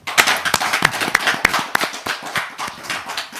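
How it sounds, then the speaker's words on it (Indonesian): An audience at an Indonesian religious gathering claps for a guest, with sharp, uneven individual claps standing out in a loose, moderately loud burst of applause; no talking. "Tepuk tangan buat Abah Setu"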